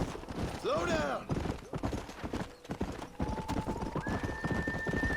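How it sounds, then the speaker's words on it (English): A horse galloping and whinnying in the Red Dead Redemption video game: a loud neigh near the start over steady clip-clopping hooves, with game sounds and a tone rising later, under some talk. "Definitely like the horses in this game better than RDR2."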